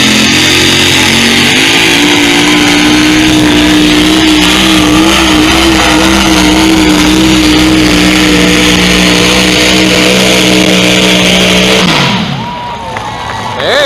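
A multi-engine pulling tractor with two engines out front and a third mounted backward in the rear, each around 540 cubic inches, roars at a tractor pull. The loud, sustained engine roar runs steadily for about twelve seconds, then drops off.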